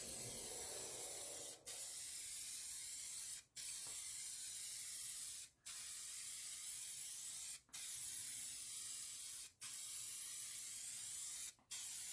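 An aerosol can sprays clear coat onto a Mk2 Golf GTI 16v sunroof in long steady hissing bursts, each about two seconds, separated by brief gaps, close and continuous.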